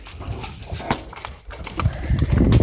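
Pigeons coo and flutter close by at a feeding, soft throaty calls mixed with rustling, wingbeats and shuffling noises throughout.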